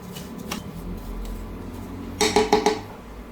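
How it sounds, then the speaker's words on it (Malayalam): Semolina is dry-roasted in a pan and stirred, with quiet scraping that turns into a short cluster of louder metallic scrapes and taps near the end. "ഗോൾഡൻ കളർ ആകുന്നത് വരെ ഒന്ന് വറുത്തെടുക്കും."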